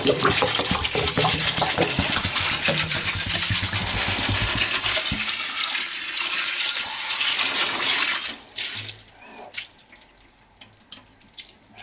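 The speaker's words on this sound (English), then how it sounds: "So I'm just going to pour the distilled water in here" Distilled water pours steadily into a container, about 4 litres, during gold recovery from RAM sticks as e-waste recycling; a loud continuous splashing rush that thins out and trickles near the end, with no talking.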